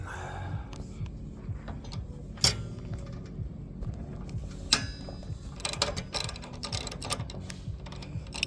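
A ratchet with a 12mm socket works a bolt on a 200cc go-kart clutch held by vice grips, giving quick runs of light clicking with a few sharper metallic knocks, close and fairly quiet.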